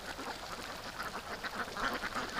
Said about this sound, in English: Such a little duck.